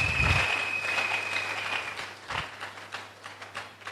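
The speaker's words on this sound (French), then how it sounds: "Acclamons très fort pour celui qui vit à jamais" A church congregation applauds, a dense wash of clapping that starts loud and crowded, then settles into a steadier, slightly thinner patter with a low hum running underneath.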